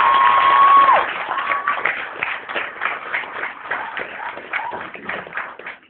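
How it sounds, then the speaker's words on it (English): An audience at a spoken-word poetry tour event in Birmingham applauds, a steady wash of clapping and crowd noise that slowly thins out, with a brief whistle near the start. "applause."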